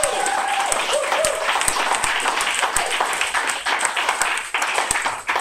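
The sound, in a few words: applause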